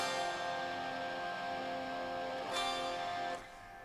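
Chord on guitar of C power-chord shape with added bottom and top G, rung out and sustained, fairly quiet and close, with a second strum near the end before decaying; no talking.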